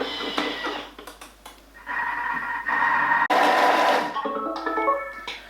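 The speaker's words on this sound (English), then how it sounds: "it will just give the onions a little bit of a chop" A Thermomix food processor chops onions for beef and mushroom stroganoff in a few whirring bursts, its motor pitch rising and settling between pulses, close and fairly loud with no talking.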